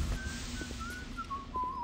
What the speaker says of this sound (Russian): Хватит свистеть.